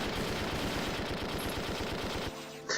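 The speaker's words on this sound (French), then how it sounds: "Mais t'as tiré où, Eric?" Sustained rapid machine-gun fire in the video game Valkyria Chronicles, a loud, close, evenly spaced stream of shots that cuts off near the end.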